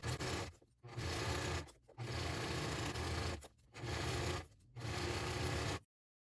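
A sewing machine chain pieces fabric in four steady, close runs of continuous stitching, with short pauses between runs. The sound stops abruptly at the end.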